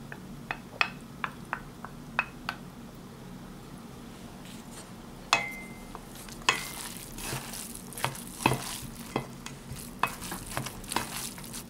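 Siomai filling of pork and seasonings with sesame oil is stirred in a bowl, a run of crisp, irregular utensil taps and clicks that quicken into steady scraping and mixing, with no voices.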